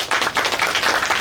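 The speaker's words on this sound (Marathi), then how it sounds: "जोरदार टाळ्या झाल्या पाहिजे." Brief burst of audience applause at an award ceremony, dense overlapping clapping from a crowd, moderately loud and continuous for about a second.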